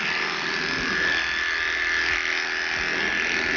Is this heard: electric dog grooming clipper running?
yes